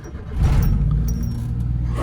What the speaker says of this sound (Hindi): अब गाड़ी करते हैं स्टार्ट